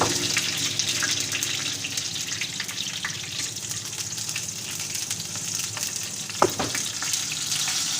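Chili and leaves fry in hot oil over a high flame for a tadka, sizzling and crackling steadily, loud and close, with a brief sharper spatter partway through and faint stirring beneath.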